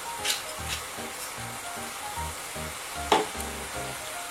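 White wine, about 8 cl, sizzles and bubbles hard as it reduces in a hot pan for braised ham, a steady loud hiss with soft pulsing bursts and one sharper spit near the end.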